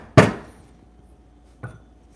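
Two taps on a Turin DF64E espresso grinder: a sharp, close knock followed about a second and a half later by a softer second tap, with quiet in between and no talk.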